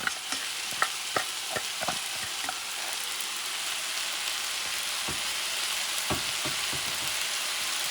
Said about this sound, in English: you're going to mix this baby around, because now you want all the flavor mixed with the rice